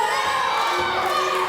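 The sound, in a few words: wrestling ringside crowd shouting and cheering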